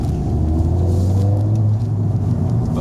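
A Ford Fiesta ST engine rumbles steadily from inside the car, a low continuous drone that rises slightly as it accelerates.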